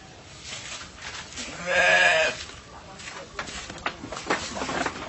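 A goat on a farm gives a single clear bleat near the middle, set against low background noise and some faint rustling, with someone talking in the surrounding moments.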